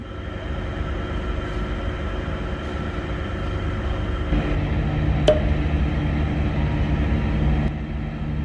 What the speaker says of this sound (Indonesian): kereta api Argo Sindoro diberangkatkan dari stasiun Tegal